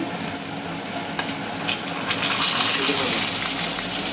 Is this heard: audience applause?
no